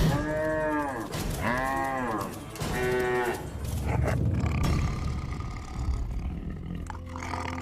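A cartoon cow moos three times in quick succession, loud and close, followed by a rumbling, growling roar like a tiger.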